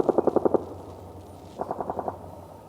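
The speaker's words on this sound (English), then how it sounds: "There's a couple of weapons firing out there." Two bursts of automatic gunfire from a military training exercise, about six rapid shots then five more after a short pause, heard at a distance outdoors.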